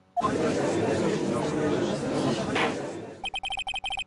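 In the Phoenix Wright Ace Attorney video game, an electronic telephone rings in short, evenly repeated pulses near the end, right after a loud stretch of noisy crowd-like sound cuts off.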